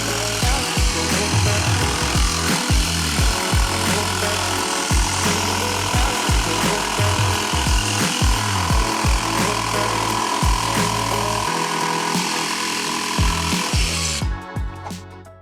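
A Milwaukee M12 jigsaw cuts wood with its blower off, a loud continuous buzzing drone with rapid rhythmic strokes that cuts out near the end.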